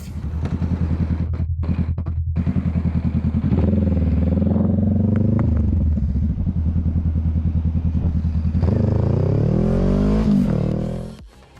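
A motorcycle runs loud and close on a road, a steady rumbling engine that revs up twice with rising pitch before cutting off near the end.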